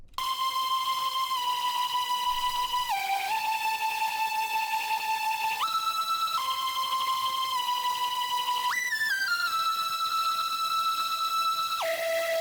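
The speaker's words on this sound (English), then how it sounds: "I use this Chaos lead from the Octane Serum Bank," A Chaos lead synth from the Octane Serum Bank plays a bright, buzzy chorus melody of long held notes that glide up and down in pitch, rich in high harmonics and continuous throughout.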